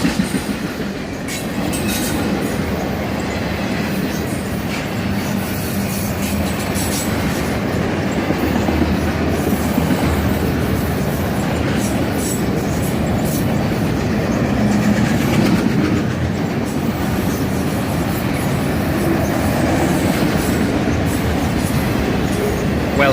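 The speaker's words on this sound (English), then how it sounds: "Loaded autoracks headed south, a common sight on the Toledo Sub" A southbound freight train of loaded autoracks rolls past on the Toledo Sub, a continuous rumble of cars with faint clickety-clack and occasional wheel squeal, steady throughout with no talk.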